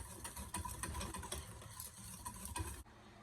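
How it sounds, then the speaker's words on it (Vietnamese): A sugar and cornstarch mixture is stirred in a pot, giving a steady close scraping and swishing with a constant rough texture for about three seconds, then stopping abruptly. "Mình trộn tất cả cái hỗn hợp này cho đều lại."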